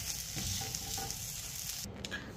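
A moong dal dosa (pesarattu) cooks on a pan with a soft, steady sizzle and faint crackle that drops off abruptly near the end, no talking.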